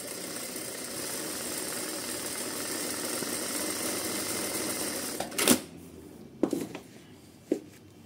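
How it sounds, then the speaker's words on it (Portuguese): Sun Special electronic straight-stitch sewing machine running a decorative pattern stitch, with a continuous fast mechanical whir close by, followed by a few clicks and knocks once it stops. "Você vai fazer um ponto decorativo com a costura reta."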